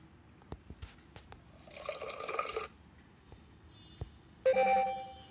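Droplet-like plinks and a bubbly, watery tone sequence from an Android phone's water ringtone, ending in a brighter chime, quiet and close with no talk.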